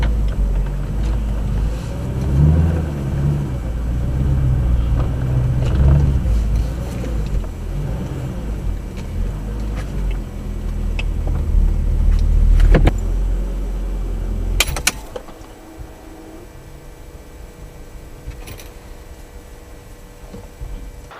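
Mercedes C55 AMG driving, picked up by an Ausdom AD282 dash cam: a steady low engine and road rumble fills the first fifteen seconds, then drops to a quieter idle-like hum.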